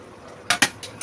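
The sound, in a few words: cooker placed on lidded biryani pot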